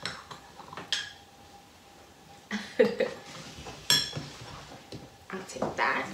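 Flour, cinnamon and sugar stirred together in a bowl while baking apple crisp with a toddler, giving scattered light clinks and scrapes of utensil against the bowl, with short quiet gaps between bursts and faint voices nearby.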